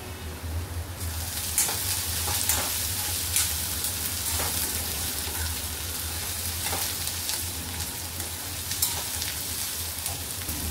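Chopped green chilies and crushed garlic frying in oil in a pan for methi bhaji, a steady close sizzle with occasional crackles and soft stirring scrapes running throughout, no voices.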